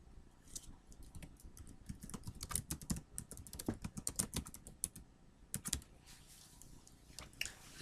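A song title is typed on a computer keyboard in irregular bursts of close, crisp key clicks, with short pauses between the flurries.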